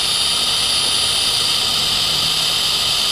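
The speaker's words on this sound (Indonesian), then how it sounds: "Kita coba tes RPM, variable speed 1." A DongCheng DCPB598 cordless impact wrench spins freely at its first variable speed, giving a steady, loud, high-pitched motor whine with broadband hiss that holds constant throughout and has no voices over it.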